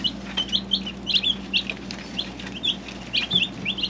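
Newly arrived chickens cluck and chirp in short repeated bursts at close range, with a steady low hum underneath and no talking.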